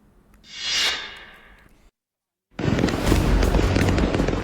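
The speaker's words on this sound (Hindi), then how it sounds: "यहाँ एक गोदाम में आतिशबाजी के लिए लाए गए पटाखों में आग लग गई और बड़ी तबाही मच गई।" Fireworks going off in a warehouse fire in California, a hissing whoosh, then a short gap, then a dense loud stretch of crackling bursts.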